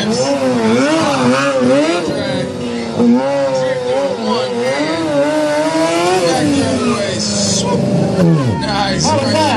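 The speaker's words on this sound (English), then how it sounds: "This guy wants to see you drift right here." A vehicle drifting around a parking lot at a motorcycle stunt show, its engine revving loud and continuous with wavering pitch and tire squeal, close by over crowd chatter.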